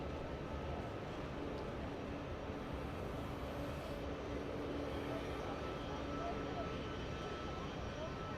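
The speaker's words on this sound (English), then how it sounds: "Air Force One's departure." Air Force One departing Los Angeles International Airport makes a steady, distant jet roar that holds level throughout, with voices talking over it.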